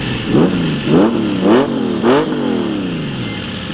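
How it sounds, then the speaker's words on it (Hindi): A Honda Gold Wing motorcycle engine revs up four times in quick succession, each blip rising in pitch and falling away, loud and close, with a steady idle underneath. "ये गोल्ड विंग की आवाज़ है"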